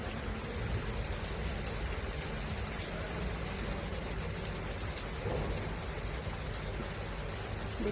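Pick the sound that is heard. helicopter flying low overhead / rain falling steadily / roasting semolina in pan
rain falling steadily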